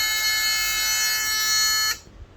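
Electronic buzzer of a 555 timer infrared tripped-alarm circuit sounds as a steady, loud, harsh tone for about two seconds, then cuts off abruptly when reset, leaving faint background noise.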